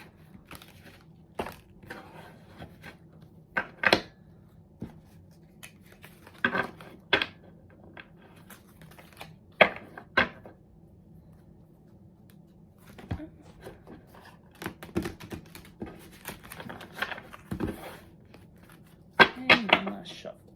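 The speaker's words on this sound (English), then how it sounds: "Now that I've gotten the card shuffled" Tarot cards being shuffled in short bursts of riffling and slapping, spaced irregularly with quiet pauses between.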